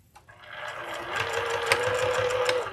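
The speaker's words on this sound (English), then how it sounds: "Back tack over it. And sew." A sewing machine runs steadily for a few seconds, stitching a hanging ribbon onto a candy cane stocking, a close, continuous mechanical hum with a rhythmic needle patter and a faint whine.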